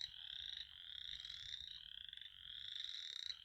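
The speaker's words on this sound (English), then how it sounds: "And there's the frogs, if you can hear them." Frogs croak in a continuous rhythmic chorus outdoors, faint and distant, a pulsing trill rising and falling with no talking.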